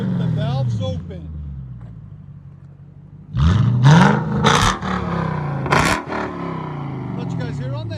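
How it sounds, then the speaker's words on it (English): A 1999 Lexus GS 400 with a 4.0L V8 and dual exhaust through Valvetronics valve mufflers held open, heard from outside: a low rumbling idle, then several sharp, loud throttle blips and revs that fall back to idle. "Valve exhaust. This is what it sounds like outside."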